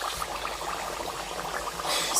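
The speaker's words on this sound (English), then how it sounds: "Let's start frying the yam." Yam fries in a pan with a steady, dense sizzle and crackle, close and continuous, growing slightly louder near the end.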